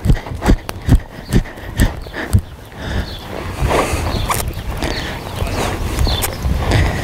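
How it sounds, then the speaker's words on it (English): A horse's hooves clip-clop in a steady, close, loud rhythm, then blur into a denser rumble of cantering strides, with no talk over them. "So that's how you ask your horse to canter."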